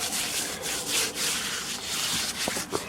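Hands rubbing dry cure into a slab of pork for homemade bacon, a steady close scratchy rubbing that swells and eases in strokes, with a couple of brief knocks near the end.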